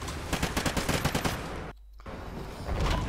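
Rapid automatic gunfire in a Call of Duty Ghosts multiplayer match, loud bursts of shots over the first stretch, a brief silent gap, then more firing rising toward the end.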